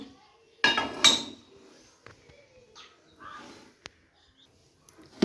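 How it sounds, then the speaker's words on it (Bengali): A metal tawa is set down on a gas stove with a couple of loud metallic clanks, followed by softer handling noises and a single sharp click, all close by in a quiet kitchen. "এবার গ্যাসে তাওয়াটা চাপিয়ে দেব"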